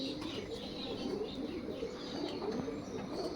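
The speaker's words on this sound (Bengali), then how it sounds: "দেখুন পায়রার কোয়ালিটি।" Pigeons cooing steadily in a loft or coop, a continuous low murmur of several birds with occasional chirps and wing sounds, fairly close and without talk.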